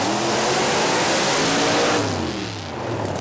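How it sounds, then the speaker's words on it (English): A Camaro with a big 500 cubic inch Chevy engine does a dry burnout at a drag race, its engine roaring loudly and rising in pitch before the sound tapers slightly. "Now watch the Camaro on the dry burnout."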